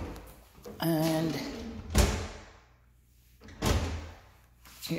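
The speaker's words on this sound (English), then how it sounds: "your easy close drawers, lots of drawers." Soft-close drawers in a kitchen with white quartz counters are opened and shut, giving two distinct soft thuds about two seconds apart over a quiet room with faint low hum, plus a brief voice-like sound early on.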